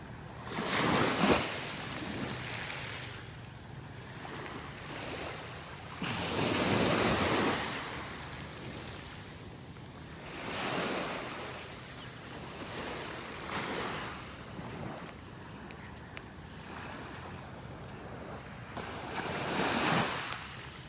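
Ocean waves surge and break at intervals on a beach in North Naples, Florida, with steady wind noise from the shore in between; no one speaks.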